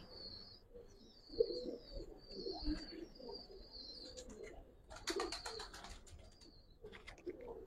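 A male Giribaz pigeon coos in low repeated bursts amid other pigeons' calls, with high chirps from nearby birds throughout and a louder cluster of chatter near the middle, close and moderately loud.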